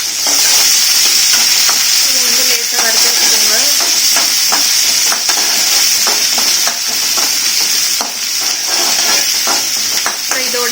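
Ten peeled small shallots sizzle loudly and steadily in hot oil for a black-chicken curry, with frequent scraping stirs and crackles over the constant hiss, and no talking.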